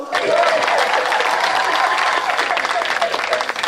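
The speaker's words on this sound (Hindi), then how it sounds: "ताली बजाओ, ताली बजाओ।" Lively audience clapping at a Hindi comedy show, dense and continuous, with voices and a few shouts mixed into the applause throughout.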